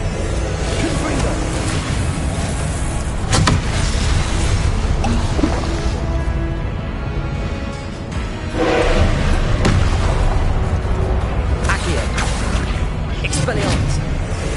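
Confringo spell explosions in Hogwarts Legacy, repeated booming blasts and bursts amid dense combat noise, with a voice talking over them.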